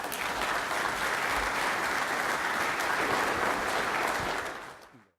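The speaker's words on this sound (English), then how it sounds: "giving Lee a warm GFA round of applause" A conference audience breaks into a warm, sustained round of applause, dense steady clapping that holds for several seconds and then fades out.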